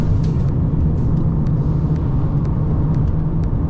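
Volkswagen Passat accelerating hard in traffic, a loud steady engine rumble from inside the car with faint intermittent clicks, no talking.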